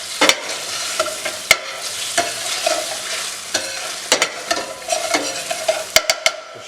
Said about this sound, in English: Just stir that round